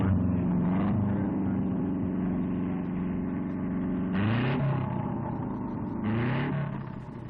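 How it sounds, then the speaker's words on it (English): A tuned 1950s MG racing car engine, started by a power unit, gives a loud, steady roar with a deep rumble, rising in pitch twice as it revs up, close by and continuous throughout. "The engine is started by a power unit, and Alec gets in to try it for sound."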